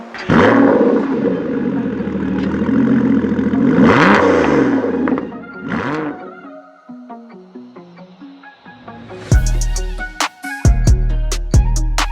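An Aston Martin V8 Vantage with a loud modified exhaust is revved hard several times in close succession. It then settles into a quieter, uneven stretch broken by sharp bursts and bangs near the end, with no voices.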